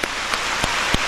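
Audience applause during a church testimony service, a brief dense wash of clapping with a few louder individual claps standing out at a regular pace, and no voices over it.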